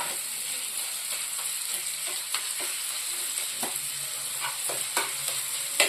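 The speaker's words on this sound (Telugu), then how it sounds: "చింతకాయ తొక్కు వేసి బాగా కలబెట్టుకోవాలి" Tamarind pickle is stirred into a prawn curry in a pan, with a continuous sizzling hiss and scattered soft scraping taps from the stirring, close and without talk.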